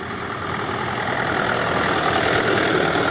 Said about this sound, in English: As you can hear, the B450, that long stroke diesel